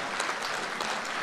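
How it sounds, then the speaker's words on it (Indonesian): Conference delegates at the Kadin 2024 Rapimnas meeting clap together in a thick, even burst of applause, filling the hall without any speech over it. "Tepuk tangan."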